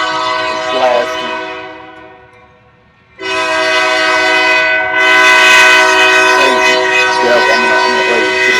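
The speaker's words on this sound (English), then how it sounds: "we got a damn train coming by" A train passes close by, sounding its horn in loud, sustained blasts; the horn fades briefly, then returns even stronger and holds for several seconds.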